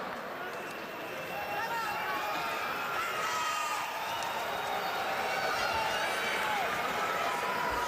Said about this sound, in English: And the crowd is buzzing.